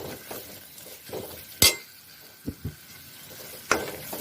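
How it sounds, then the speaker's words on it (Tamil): Soya chunk salna masala being stirred and sautéed in a pan, with a few sharp clinks and taps of a utensil on metal over a faint, low sizzle and no voices. "இப்போ எல்லாத்தையும் ஒன்றாங்க அப்படியே வதக்கி விடுங்க."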